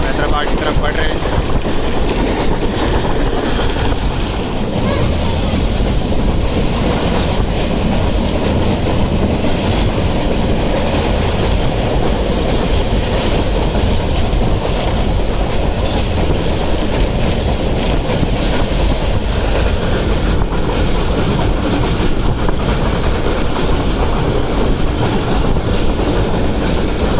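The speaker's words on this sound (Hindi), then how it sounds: "ट्रेन ने अपनी असल रफ्तार पकड़ी है और हम हैदराबाद की तरफ बढ़ रहे हैं।" Passenger train running at full speed toward Hyderabad, a loud, steady rumble of wheels and carriage noise filling the whole stretch, with a voice talking over it.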